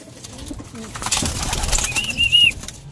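Racing pigeons in a loft, soft cooing mixed with rustling and wing flaps nearby, and a brief higher chirp toward the end.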